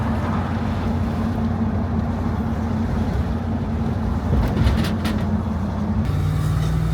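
An old ex-TV car pulling away and accelerating sluggishly, a loud steady low engine drone with heavy wind rush, the pitch barely rising, with a brief shift near the end.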